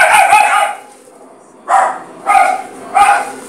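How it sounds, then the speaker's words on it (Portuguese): A dog barks nearby in short bursts: one early volley, a pause, then three evenly spaced barks, each loud and sharp. "Filha da mãe, o cachorro aqui, velho."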